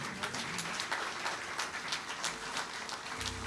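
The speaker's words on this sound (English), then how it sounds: "A resounding round of applause for the chairman of the planning committee" Scattered applause at a 2022 civil service awards ceremony honours the planning committee chairman. The clapping is moderately loud, uneven and patchy, with no talk over it.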